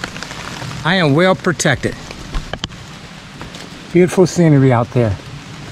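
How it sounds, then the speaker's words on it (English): Rain patters steadily on a tarp shelter outdoors, a soft continuous hiss beneath someone speaking close by in short bursts. "the rain is coming down"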